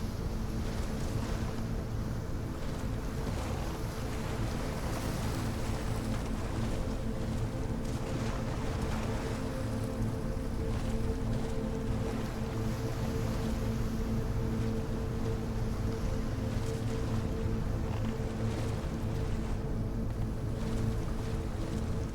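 A boat rides the waves in the video game ASKA, heard as a constant dense wash of water and wind with a steady low hum, unbroken for over twenty seconds.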